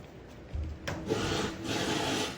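Sandpaper rubbed by hand over deep scratches in car paint: a steady, gritty scrubbing that starts after a brief pause and keeps going in back-and-forth strokes, close and fairly quiet, with no talking.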